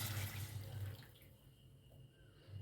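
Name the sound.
pouring 600 ml of water into the pan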